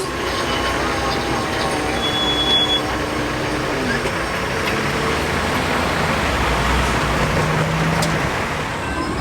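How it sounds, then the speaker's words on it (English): A long freight train of about 90 cars rolls past near Reading, Pennsylvania, a loud continuous rumble of wheels on rails with faint squealing tones, steady and close throughout. "Here, the train is pulling around 90 cars."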